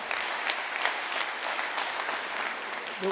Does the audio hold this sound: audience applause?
yes